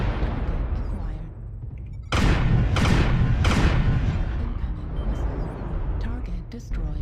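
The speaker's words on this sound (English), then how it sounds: "just flinging missiles everywhere" Missiles fire from a mech in MechWarrior Online as three quick, loud whooshing bursts in a row, over steady low machine rumble. An intermittent voice runs underneath.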